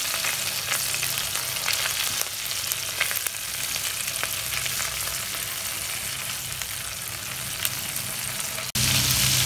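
Garlic paste frying in a pan toward golden brown, a steady close crackling sizzle running without pause, briefly dropping out near the end before resuming.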